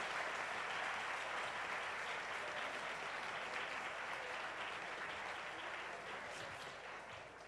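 Audience applause for a panel at a legal lecture event, fairly quiet but steady continuous clapping over several seconds that gradually thins toward the end.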